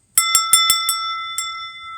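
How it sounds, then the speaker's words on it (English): A cut glass bell at a flea market rings in a quick burst of four strikes, then one more after a short pause, each leaving a clear, high, sustained shimmering tone that lingers close and loud. "look at that beautiful cut glass bell"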